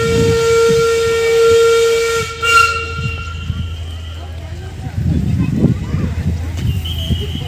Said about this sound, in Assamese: ট্ৰেইনখনে পূৰা হৰ্ণ বজাই আছে